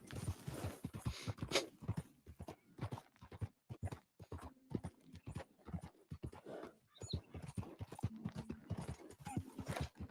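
Horse hooves clip-clop at a steady trot in the Red Dead Redemption 2 video game, close and rhythmic throughout, with occasional snorts or panting mixed into the footfalls.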